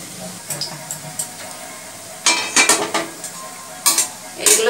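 Bottle gourd, carrot and semolina fritters slipped one by one into hot oil on low heat, giving soft sizzling bursts and light utensil clinks in a quiet kitchen, with louder splashes toward the end.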